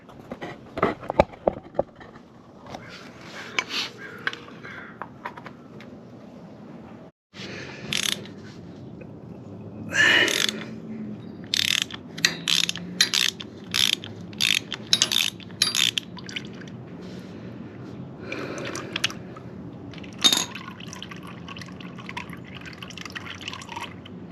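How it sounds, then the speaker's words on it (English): Oil filter coming off a Pan America motorcycle during routine maintenance in a home garage: scattered sharp metallic clicks and ratchet-like taps over a steady low background hum, with occasional faint drips. The sounds are close and there is no talking. "Let's get this filter out right here."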